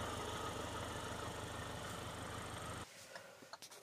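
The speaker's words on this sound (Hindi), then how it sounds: "अगर आप इसके इंजन की आवाज़ सुनोगे ना तो बिल्कुल ऐसा लगता है जैसे पेट्रोल का इंजन चल रहा हो" A Hyundai Venue engine idling: a steady, close mechanical hum with a light vibrating rumble that cuts out abruptly near the end, leaving a few faint clicks.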